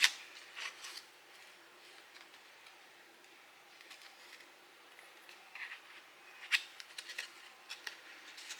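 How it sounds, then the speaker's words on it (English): Scissors snip through paper card stock while making DIY Christmas fun fold cards, giving quiet, scattered snips and small rustles up close at low level. "Make sure you cut it on the line."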